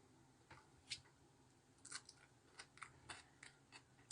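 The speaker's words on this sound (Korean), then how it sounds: "이건 되게 아삭아삭한게 씹히네요" Crisp, crunchy chewing of spicy Korean bibim noodles with whelk and boiled egg, heard as soft, irregular crunches and squishy bites close to the mic in an otherwise quiet room.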